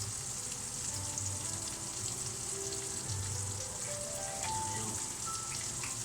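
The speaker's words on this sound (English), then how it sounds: "They're going to pop and sizzle, alright, for a little bit." Fennel seeds and curry leaves sizzle in hot oil for a chicken tikka masala, a soft continuous crackling hiss with faint scattered pops, quiet and close, with a tonal background hum running underneath.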